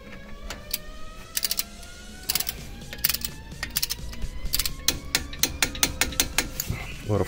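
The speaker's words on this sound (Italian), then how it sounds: "ora chiave dinamometrica e andiamo a serrare a 35 newton, bussola di 13 e chiave di 17." A torque wrench with a 13 mm socket tightens the front brake caliper bolts on a VW Golf or Turan to 35 Nm, giving bursts of sharp, close ratcheting clicks in an uneven rhythm over faint background hum.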